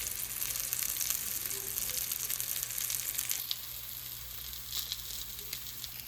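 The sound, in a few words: breaded pieces sizzling as they sear in a pan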